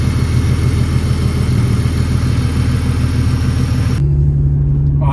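A Ford AU Falcon engine runs steadily at a loud, close idle with a low rumbling drone and whirring, shifting to a quieter hum with a lower tone near the end; no voices.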